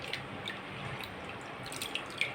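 Water drips and trickles away from a batch of soaked mixed lentils as they are lifted out to drain, a steady close wet patter with a few brighter droplet splashes.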